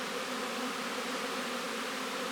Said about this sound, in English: I've pulled all my bees out of the root cellar.